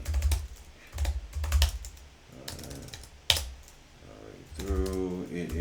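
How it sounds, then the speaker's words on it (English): Fast typing on a computer keyboard, rapid irregular clusters of close, crisp key clicks with brief pauses, and a voice speaking quietly in between. "I'm typing fast."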